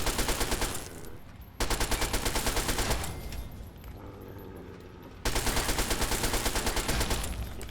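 Automated turrets in Fallout 3 firing long, rapid bursts of machine-gun fire, loud and close, with a short lull in the middle before the sustained rattling resumes; no talking.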